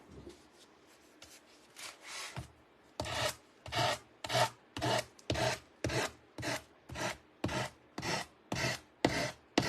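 Rhythmic rasping strokes of sandpaper on a decoupaged motorcycle part, the edge sanded to a finish with crackle paste on it. Faint, sparse rubbing comes first, then a steady run of about a dozen close, even strokes with no talking.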